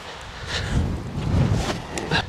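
Strong gusty wind buffeting the microphone on a golf course in 25 mph winds, a continuous low rumble that surges and eases with a few faint higher sounds on top.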